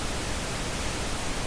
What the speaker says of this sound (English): So if I turn on now the pink noise, okay, it should be like this.